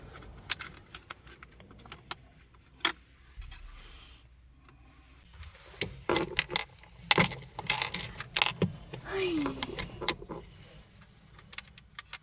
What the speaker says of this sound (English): And now I am putting in the 4 screws, the white screws I removed from the side.